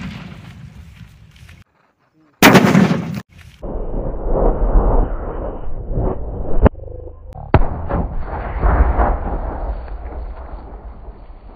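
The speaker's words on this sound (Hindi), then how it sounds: "तो आप देख सकते हैं कैसे बम फटा" Aloo bomb firecracker bursting inside an LED bulb outdoors, one sharp loud blast after a brief silence, followed by crackling, rumbling debris and a second thump, with someone talking throughout.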